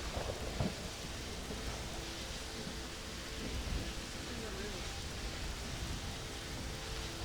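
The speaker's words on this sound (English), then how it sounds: "It rains up here?" Steady rain hisses over a modded video game landscape while low thunder rumbles beneath it, a dense continuous wash with a few deeper swells.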